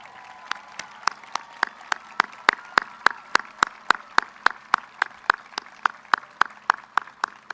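A commencement crowd applauding the class officers at a university graduation, with a steady run of sharp, regular claps ringing out close and distinct over a quiet hall.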